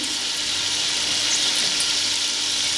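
Garlic and ginger fry in oil with a constant bright sizzle, close and even, heard alone without voices.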